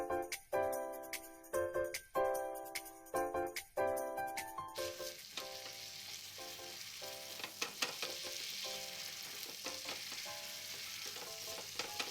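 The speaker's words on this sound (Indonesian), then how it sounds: "Tumis bumbu yang sudah dihaluskan dengan sedikit minyak goreng supaya tidak berbau langu." Ground spice paste sautés in a little cooking oil, opening with a run of bright clinks from a utensil against the pan before settling into a steady, close sizzle with occasional stirring taps.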